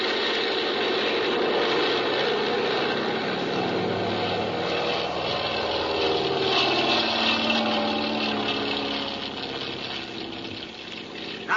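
A vintage radio-drama plane engine drones loudly and steadily through a takeoff, a dense roar that holds for the whole stretch and eases slightly near the end, with no voices over it.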